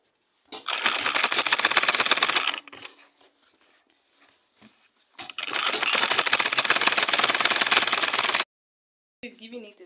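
A sewing machine top-stitches fabric for beginner shorts in two loud, rapid bursts of rattling stitching split by a quiet pause, then a brief restart at the end.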